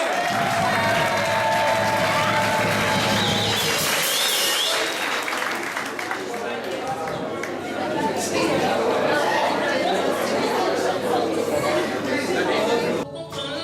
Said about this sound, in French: On applaudit Margaret, s'il vous plaît.